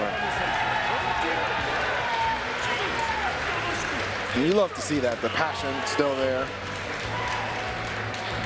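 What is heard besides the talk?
crowd cheering and applauding at fighting game tournament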